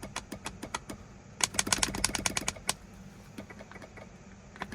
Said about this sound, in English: I hear the horn relay.